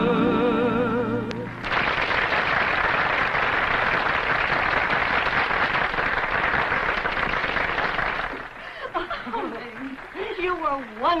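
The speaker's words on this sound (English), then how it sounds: "Just listen to that applause." Enthusiastic theater applause following a song in a 1944 film, loud and continuous after music ends, then fading as people speak over it.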